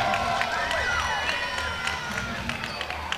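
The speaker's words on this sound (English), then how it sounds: "Kevin Thorne now going to celebrate with this Arabian crowd here at Pendleton Heights High" A crowd cheers at a high school wrestling show at Pendleton Heights High, with shouts and scattered claps forming a lively roar. A commentator talks over it throughout.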